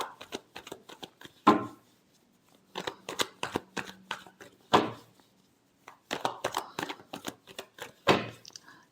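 Tarot cards being shuffled by hand, quiet bursts of riffling and slapping in several clusters separated by short pauses.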